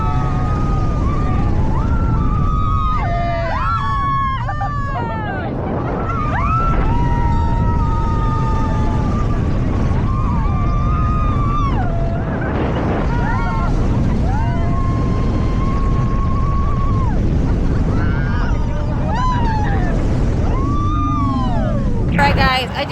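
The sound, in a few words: riding the Xcelerator roller coaster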